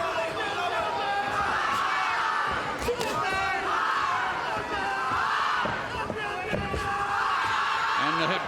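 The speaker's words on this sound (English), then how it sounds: "the Australian contingent with chants of oi, oi, oi in the crowd" A fight crowd in Hawaii during a featherweight title bout, including an Australian contingent, chants rhythmic "oi, oi, oi" calls in repeated rising waves, loud and roomy, with shouts and a few sharp thuds mixed in.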